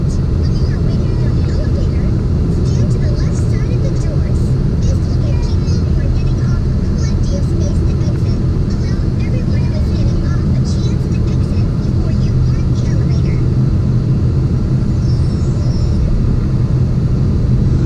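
A 2017 Ford Mustang EcoBoost turbocharged engine hums steadily from inside the cabin while driving, a constant low drone with road noise that stays at an even level throughout, with no clear surge of acceleration.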